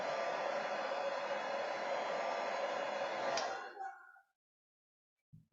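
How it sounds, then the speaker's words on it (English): A well-worn hairdryer blows steadily on drying watercolour paint, a loud, close, even rush of air that runs for nearly four seconds before cutting off and winding down into silence. "I'm just going to grab my hairdryer, give it a little blast."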